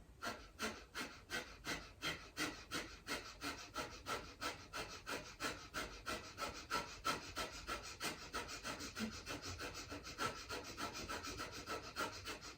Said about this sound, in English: let's begin that quick breath out the nose